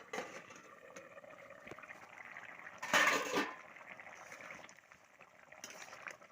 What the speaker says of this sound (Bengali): এবার আমি ঢাকাটা খুলে দেখব হয়েছে কিনা